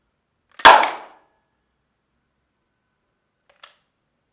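A homemade single-stage coilgun built into a Nerf gun fires once with a sharp, loud snap that fades quickly, followed seconds later by a faint small click in otherwise quiet surroundings.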